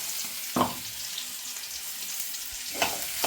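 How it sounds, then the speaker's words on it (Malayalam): Crushed onion, ginger and green chili fry in hot oil, a steady low sizzle punctuated by two sharp sputtering bursts, heard close with no talking. "അപ്പൊ അതെല്ലാം കൂടി ഇട്ട് കണ്ട ആ എണ്ണ തെറിച്ച കണ്ട സൂക്ഷിക്കണം"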